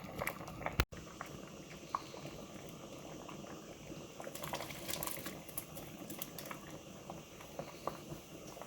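Hot water poured into a pot of turkey and wild rice soup, a steady faint splashing and bubbling stream that runs continuously, with a soft clunk near the start.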